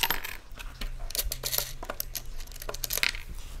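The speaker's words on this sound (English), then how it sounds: "remove the hex nuts" Metal hex nuts clinking as they come off the terminal posts of a 120A 12V DC circuit breaker, with a run of small sharp metallic taps and rattles close by, no talking.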